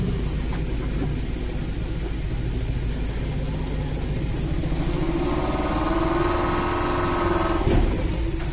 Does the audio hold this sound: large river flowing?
no